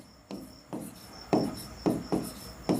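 Chalk or marker writing on a classroom board, a series of short scratchy strokes in bursts roughly every half second, close and moderately loud, with a faint steady hum behind and no talk.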